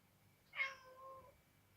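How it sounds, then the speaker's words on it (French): A pet kitten gives one short, soft meow that rises and then trails off, heard alone in a quiet room. "Et ça c'est mon chaton qui miaule."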